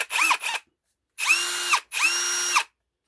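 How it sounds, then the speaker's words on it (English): Ryobi brushless 1/2 in. hammer drill driver spinning up in three short bursts, each a loud, close whine that ramps up, holds steady and winds down, separated by silence. "this is a really, really nice drill driver."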